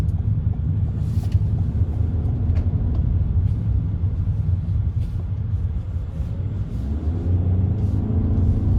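A 2020 Toyota Corolla Hybrid cruising at 80 km/h over an uneven road gives a steady, dense low road-and-tire rumble, with a few faint bumps and knocks rising above it throughout.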